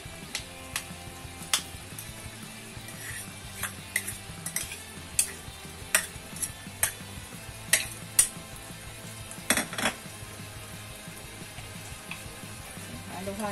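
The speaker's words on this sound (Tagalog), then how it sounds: "Halo-halo lang po ulit." Buttered shrimp with salted egg is stirred in a pan. A utensil scrapes and clinks irregularly against the metal over a faint, steady sizzle, fairly quiet and close, with no one talking.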